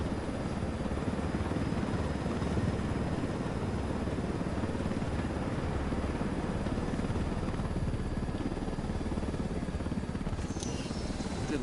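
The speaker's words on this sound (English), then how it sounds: "just gonna drop the helo off for the rebels" Helicopter in a video game, a loud, steady rotor thrum with a broad roar droning continuously for about twelve seconds, close and without talk.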